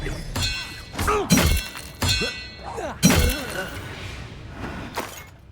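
Spell effects crack and shatter during a Hogwarts Legacy combat encounter: several sharp, loud bursts with thuds and glassy rings, spaced about a second apart, with a spoken voice casting between them.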